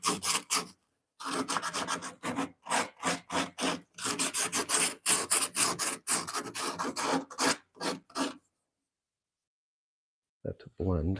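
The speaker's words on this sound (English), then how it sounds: "So I'm going to sand this back in a hurry." Sandpaper rubs back and forth in quick, rhythmic strokes on the wooden foot of a Victorian dresser, close and loud, then it stops and leaves a few seconds of quiet before a brief sound at the end.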